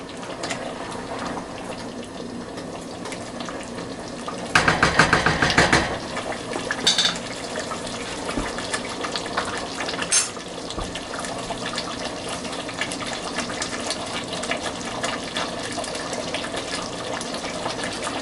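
Tomato mixture with water, salt and pepper boiling for pasta e fagioli, a steady bubbling simmer broken by a loud burst of splashing and clanking pot sounds, then continuing to burble.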